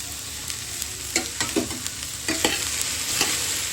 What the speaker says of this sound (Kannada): ಈಗ ಇದು ಲಾಳಿ ಎಲ್ಲ ಕಂಪ್ಲೀಟ್ಲಿ ಹೋಗಿ ಫ್ರೈ ಮಾಡ್ಕೋಬೇಕು